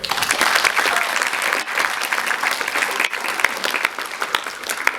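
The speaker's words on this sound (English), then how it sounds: "I request that you make a big round of applause for their work" A cinema audience at a BAFTA screening in London applauding a charity's work, a loud, dense wash of clapping from many people that carries on without pause for five seconds.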